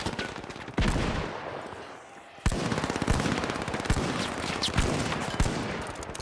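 Revolver shots from an R.357 in the first-person shooter The Finals, loud sharp cracks spaced irregularly through busy in-game action, with a brief lull before firing resumes.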